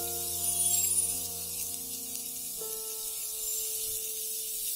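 Cumin paste goes into a hot pan of oil and onion for a Bengali vegetarian spiny gourd curry, producing a continuous airy hiss and sizzle that stays level and close.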